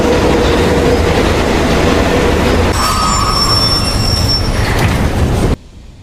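A loud subway train rumbles past with steady wheel noise and high metallic squeals, then the sound cuts away abruptly near the end.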